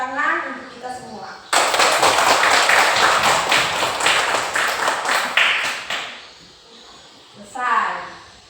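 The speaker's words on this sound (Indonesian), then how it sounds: "Tepuk tangan untuk kita semua." A class claps hands together at the close of a Hindu religious education lesson, a dense burst of many hands lasting about four and a half seconds before fading, with a teacher speaking just before and after.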